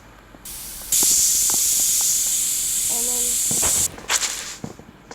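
A spray can hisses in the Internet Cafe Simulator game, one steady loud burst lasting about three seconds, with brief clicks and game tones before and after.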